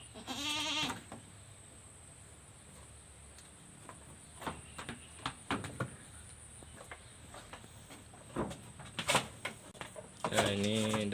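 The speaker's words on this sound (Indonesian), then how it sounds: "ini dapat kambing baru nih ya" A newborn goat bleats in its pen, with a few short, high calls at the start and end and soft rustling and tapping between them.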